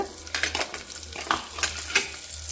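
Okra pieces tossed into a pan of frying onions, a bright sizzle broken by a series of scraping stirs and clinks of a utensil against the pan.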